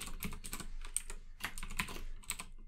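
Close, quick keystrokes on a computer keyboard as code is typed, an irregular run of light clicks and taps with brief gaps, alone with no speech.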